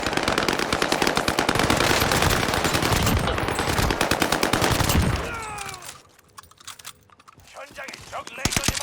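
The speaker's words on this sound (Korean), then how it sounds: "어, 총소리, 총소리." Rapid bursts of automatic gunfire from a new SMG in Call of Duty: Warzone rattle continuously for several seconds, then cut out, leaving quieter game sounds and a few scattered shots.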